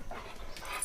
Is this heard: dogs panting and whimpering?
yes